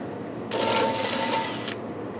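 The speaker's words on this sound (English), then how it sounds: "we kept the hole saw at low RPMs and used plenty of light oil to both protect the saw" Hole saw slowly cutting soft steel with light oil: a single steady broadband grinding burst of just over a second, fairly loud and close, with a faint tonal whine inside and quiet workshop background before and after.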